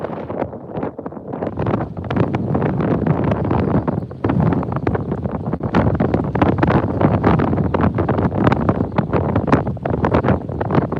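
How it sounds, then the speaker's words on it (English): Strong wind buffeting a microphone during tropical storm Bertha while fishing on the Gulf of Mexico, a loud continuous roaring rumble with gusty surges, no voices. "Can you hear all of that wind?"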